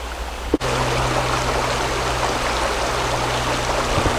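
Steady rushing flow of a creek at a wilderness water crossing in Otter Creek Wilderness, a continuous broadband burble close by, with a single sharp knock near the start and a low background hum.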